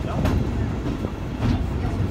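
A steam train rumbles past close by at a level crossing with a heavy, steady roar and faint rhythmic clatter of wheels.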